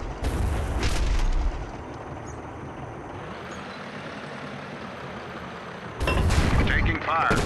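Tank cannon blasts and explosions from the video game Battle Supremacy: a heavy boom opens, followed by a long rumbling engine drone, then another burst of loud crackling fire near the end.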